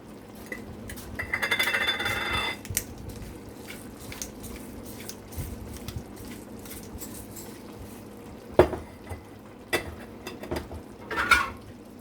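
Trinidadian chicken pelau stirred slowly in a single pot: soft wet squishing and scraping of the spoon, with a few sharper clinks against the pot near the end, close up and with no talk.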